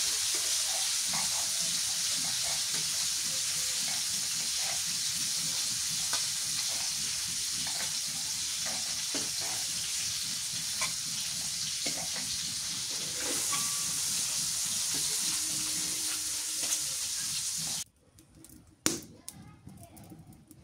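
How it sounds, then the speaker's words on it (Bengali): Sarputi fish frying in a pan gives a loud, continuous crackling sizzle up close for most of the time, then cuts off abruptly, leaving quieter kitchen clatter and a sharp knock. "মাছটা ভালো করে ভেজে নিলাম"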